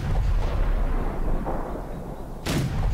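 Tank gunfire in World of Tanks, with heavy booming cannon shots and explosive bursts over a rumbling battlefield background, the loudest blast near the end of a short stretch with no speech.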